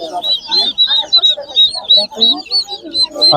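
Turkeys at a livestock poultry market give a run of quick, repeated clucking calls, close and fairly loud, with a little background chatter.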